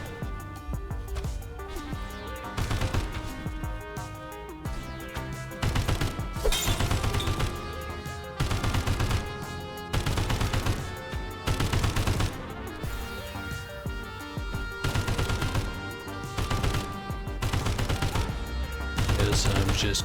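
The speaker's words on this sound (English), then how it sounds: "Still here shooting." Repeated bursts of gunfire in the game SULFUR, loud sharp shots arriving in rapid clusters and volleys with short gaps between them, continuing for the whole stretch with no talk.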